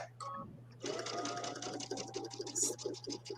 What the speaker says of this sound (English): Now I have it on medium speed.